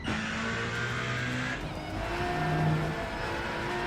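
Porsche race cars in a DTM event of the Rennsport racing game roar loudly with sustained engine tones and shifting pitch, a close, continuous car-racing mix with no talk.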